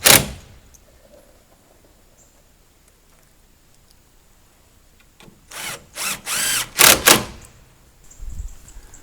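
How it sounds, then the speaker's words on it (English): A power drill pre-drills holes for number 10 screws in the edge of a small wooden build-out strip on a greenhouse, with a sharp knock at the start, then several loud whirring bursts of the drill close up. "What I'm having to do here is pre-drill these holes here"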